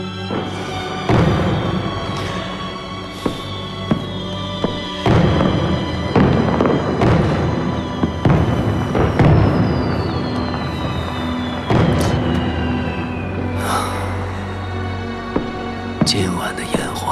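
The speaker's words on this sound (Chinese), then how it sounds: "今晚的烟花" Fireworks bursting in a night sky at a palace celebration, a run of sharp booms and crackling pops spaced a second or two apart, with a long whistling streak between bursts and soft whispered talk beneath.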